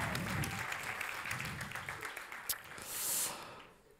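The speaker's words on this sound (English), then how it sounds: "A big round of applause for Karen and Akash." An audience at an MBA talent show applauds two performers. The clapping is fairly full at first, thins out and fades after a couple of seconds, and a faint hiss follows.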